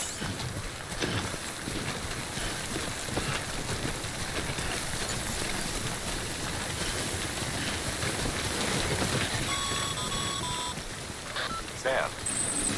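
Timefall rain in Death Stranding, a dense steady hiss of rainfall and wind filling the whole stretch while voices talk over it.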